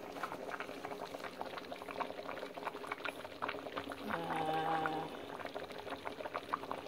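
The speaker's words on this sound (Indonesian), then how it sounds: "yang tadi udah dikasih santan dari setengah butir kelapa udah mendidih" A pot of sayur lodeh, vegetable stew with young jackfruit in coconut milk, bubbles at a steady boil, a dense close simmering crackle with a brief faint tone in the middle.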